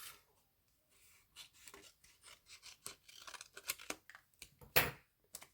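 Scissors snipping a small piece off a sheet while making a glitter resin coffee tumbler: a string of quiet close-up cuts and rustles, ending in one sharper snip.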